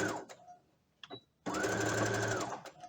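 A sewing machine stitches through two layers of fabric while sewing shorts. It gives a few short bursts, then one long, fast run of close mechanical chatter, with brief faint speech in the gaps.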